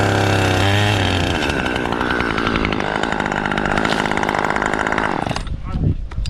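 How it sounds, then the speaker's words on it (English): A chainsaw roars continuously at high revs, loud and close, cutting the top of a tree in a forest, then cuts out near the end as the engine drops off. "He uses a chainsaw to cut the top of the tree decisively."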